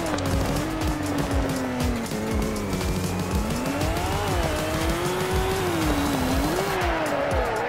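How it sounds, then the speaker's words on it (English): Car drifting in the Roblox game Car Crushers 2: a steady engine drone with pitch swells under continuous, wavering tire squeal, loud and close with no break. "I am also very good at drifting."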